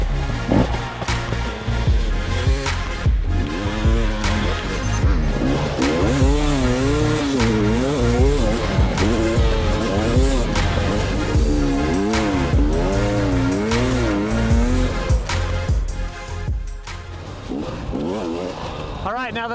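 A 2018 KTM 250 XC-W TPI fuel-injected two-stroke dirt bike, loud and close, revving and rising and falling through the gears in continuous wavering bursts for the whole stretch.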